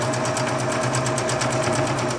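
A sewing machine stitches a seam on a fabric bag, a fast steady mechanical whir with an even rapid needle pulse, close up and running alone without pause.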